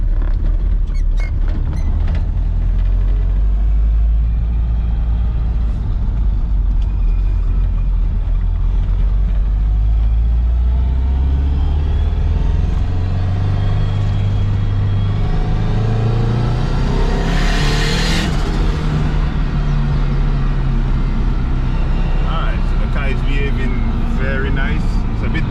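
A vehicle engine cruises at around 1700 RPM, giving a steady low rumbling drone with occasional creaks and rattles from the cabin, and a voice is heard over it.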